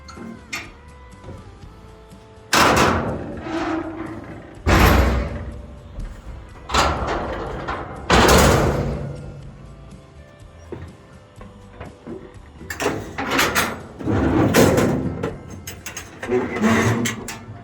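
The back doors of a truck being opened, with several loud metallic clunks, rattles and creaking swings of heavy doors at close range, separated by quieter pauses.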